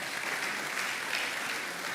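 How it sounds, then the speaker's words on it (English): Audience at a retail congress applauds panelists and their moderator, a steady, dense wash of many hands clapping throughout at even loudness. "Can we give them a warm round of applause"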